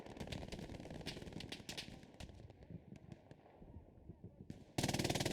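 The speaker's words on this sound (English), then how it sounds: "Anything that moves over there is going to be instantly dropped by this MG42." An MG42 machine gun in the WWII shooter Hell Let Loose rattles off rapid bursts of automatic fire with short gaps between them, closing on a louder, sustained burst.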